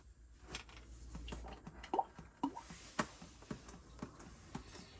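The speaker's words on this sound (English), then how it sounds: "Once I've caught enough oil, I'll just let it drain out into the pan." Gearbox oil from a manual Porsche Cayman 987 drips and drains into a pan, a soft close series of irregular plops and ticks over a faint background.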